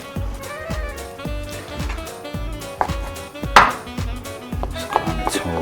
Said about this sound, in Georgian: ცოტა ხორცებს დავჭრი ახლა, აი მარადჩოულებრივ ბეკონს